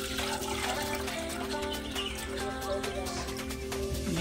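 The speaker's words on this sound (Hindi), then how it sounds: "तो इसमें ये एक पूरा मग का पानी डालते हैं।" Water from a full mug pours into a cooking pot set out for making daliya in a village kitchen, a steady trickle and splash heard over background music with no talk.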